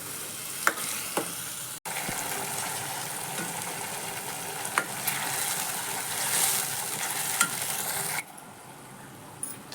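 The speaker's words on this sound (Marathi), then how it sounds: "मसाला छान परतला गेला आहे. आता यात टोमॅटो प्युरी टाकायची आहे." Masala with tomato puree sautéing in a pan for aloo ka jhol, a steady close sizzle with occasional sharp clicks of a spoon against the pan, no talking.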